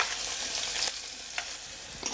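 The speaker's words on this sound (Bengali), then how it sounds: "রোস্ট ভাজার পরে যে অবশিষ্ট তেল রয়েছে সেই তেলের মধ্যে আমি পেঁয়াজ কুচি দিয়ে দিচ্ছি।" Chopped onion frying in leftover oil from chicken roast, giving a steady close sizzle with a few louder crackles and stirring scrapes, no voices.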